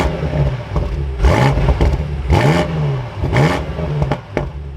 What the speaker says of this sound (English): let's fire up this M8 again.